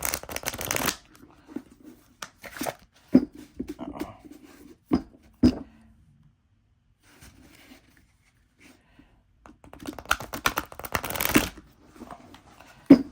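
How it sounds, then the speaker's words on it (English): Thin tarot cards being side shuffled by hand, with bursts of crisp riffling and flicking near the start, scattered taps and rustles through the middle, then a longer dense riffle near the end, close and fairly quiet. "it's easy to shuffle that way just because the cards are so thin"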